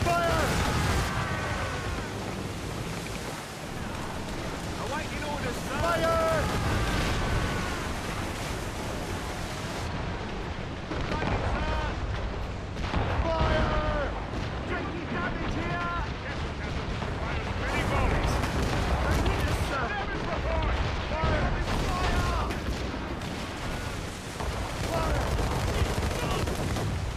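Ship cannons firing in a naval battle in Assassin's Creed Rogue, with repeated heavy booming broadsides over crashing waves and constant battle noise, while crew shout orders throughout.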